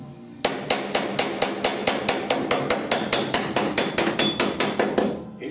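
A hammer and dolly work the steel inner roof flange of a 1969 Chevrolet C10 pickup during rust repair. About seventeen sharp, ringing metallic blows come in a steady, even rhythm, close and loud with no voices.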